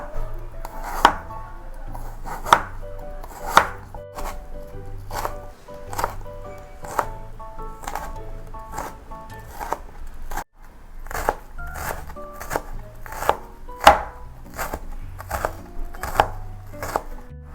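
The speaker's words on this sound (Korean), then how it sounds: "당근 또 색깔 좀 내주려고 약간만 잘자랗게 썰어서 준비해 놓을게요." A knife cuts carrot into small pieces on a cutting board, making a crisp, fairly regular series of sharp chops with some brief pauses, close and clear, with no talking.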